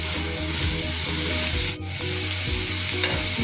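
A spatula stirs an ivy gourd and coconut stir-fry in a hot pan, with steady sizzling under a continuous scraping and rubbing, a brief pause in the middle, then more stirring.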